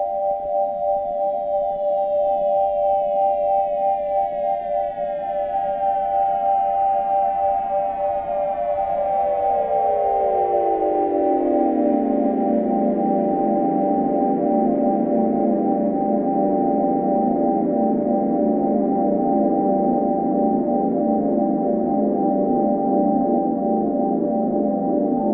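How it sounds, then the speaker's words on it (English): Synth sound effect designed on a Korg minilogue: a steady siren-like tone with layered harmonic sweeps that glide downward and settle into a dense, sustained drone over about 25 seconds, with no talking. "I have this sound effect here, the sound design that I did on my Korg mini log."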